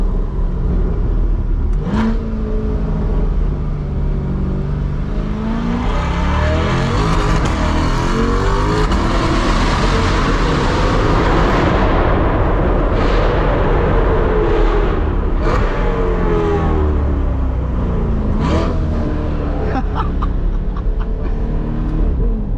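A loud C8 Corvette accelerates hard through a tunnel, its dense engine roar echoing and swelling for a long stretch, with gear changes and pops breaking through near the end.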